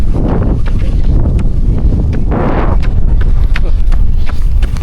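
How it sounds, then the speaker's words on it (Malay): Heavy sea wind buffeting the microphone in constant loud rumbles, with footsteps and faint rustling underneath. "Angin dia kuat."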